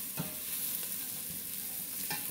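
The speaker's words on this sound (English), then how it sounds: "Get it all mixed around nicely." Mussels seasoned with basil and paprika are stirred in a hot pan, a faint soft sizzle under a few light scraping strokes of the utensil, with no talking.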